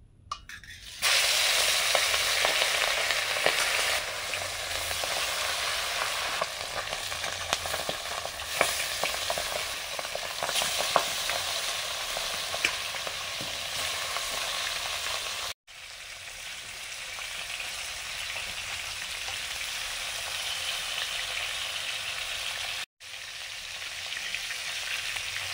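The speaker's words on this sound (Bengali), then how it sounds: "এখন মাছগুলো ভাজতে দিচ্ছি।" Bhetki fish pieces coated with salt, turmeric and chilli powder fry in a kadai, a loud continuous close sizzle with occasional stirring, briefly cut twice before resuming.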